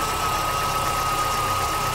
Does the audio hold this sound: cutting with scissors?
no